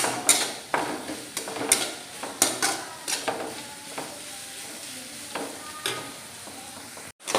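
Onions sautéing in a pan for Kerala-style pork varattiyathu with pepper, a steady sizzle broken by repeated scrapes and clinks of a spoon stirring against the pan, close and fairly loud, with no talking.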